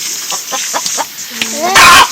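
A hen unable to lay an egg gives a series of short, rhythmic clucks that build into a louder, drawn-out squawk near the end, heard close up.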